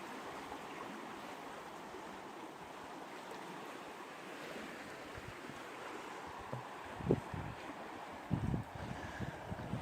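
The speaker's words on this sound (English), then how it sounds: "This is Rapid Creek." Rapid Creek rushes steadily along a canyon hiking trail near a footbridge, a soft, continuous wash of flowing water with faint gusts of wind and no voices.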